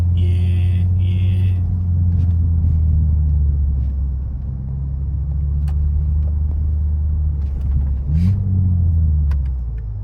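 A BMW G80 M3 on brand-new tires cruising with a steady low engine rumble, loud and close throughout, with a slight rise in pitch near the end and a few faint clicks over the drone.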